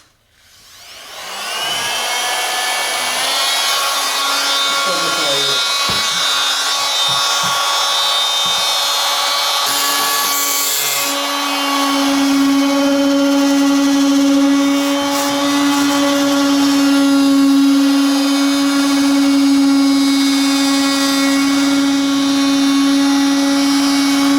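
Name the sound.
oscillating multi-tool cutting cardboard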